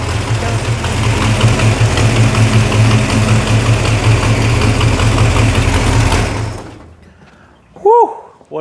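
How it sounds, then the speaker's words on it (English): A 1969 Plymouth Barracuda engine idles loudly nearby with a rough, ticking exhaust leak, runs steadily for about six seconds and then shuts off, followed by a brief voice. "Definitely an exhaust leak."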